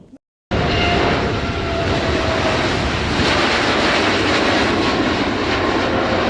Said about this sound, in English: It's time for takeoff.